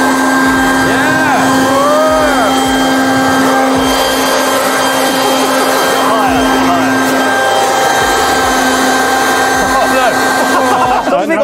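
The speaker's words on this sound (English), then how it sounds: "One of us holds the canvas, other people put paint in front of the air blower." An air blower runs loudly and continuously in a warehouse while paint is blown onto a held canvas, a steady whirring drone with voices talking over it.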